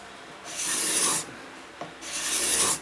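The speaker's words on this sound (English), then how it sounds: "the action of this scraper and the type of shavings that are being produced" A cabinet scraper works across a wooden surface, raising dust and fine shavings. Two long, loud, close rasping strokes are separated by a brief pause, and no one speaks.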